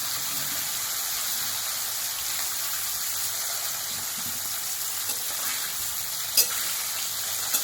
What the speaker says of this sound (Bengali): মাছগুলো এবার 2 পিস ভালো করে ভেজে নেব